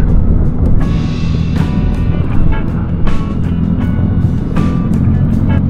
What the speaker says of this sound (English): give it a bit more throttle